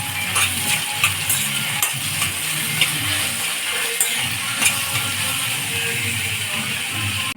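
Cumin seeds, curry leaves and a dried red chili being stirred in hot oil in a pan, with a continuous sizzle and repeated scraping and clinking of the spoon against the pan, and no voices.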